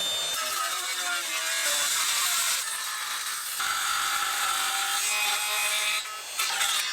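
A saw works through thick wood with a continuous, loud rasping drone that shifts in tone as the cut progresses, up close with no talking.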